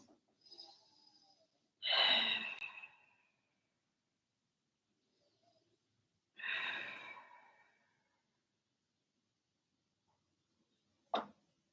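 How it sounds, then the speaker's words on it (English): Deep breaths during a yoga flow session, two slow audible exhales a few seconds apart, soft and close in a quiet room, followed by a brief faint click. "2 more deep breaths."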